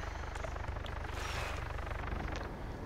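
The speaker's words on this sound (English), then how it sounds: "I hear a chopper." A video game helicopter drones steadily throughout, its rotor thump and engine roar continuous and fairly close, with no speech over it.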